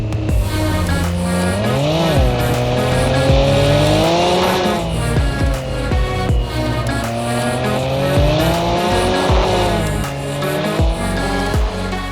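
A sim racing game car engine revs hard on a mountain road, its pitch climbing and dropping sharply with each aggressive gear shift, with squealing tires mixed into the loud, continuous roar and no talking.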